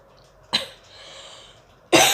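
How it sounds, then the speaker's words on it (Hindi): Two sharp, loud coughs separated by a brief pause, close to the microphone with a faint breath between them. "खांसी है"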